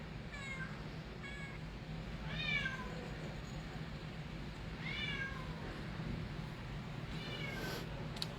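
Several cats meow repeatedly at an adoption shelter, short rising calls coming every couple of seconds at moderate distance over a steady background hum.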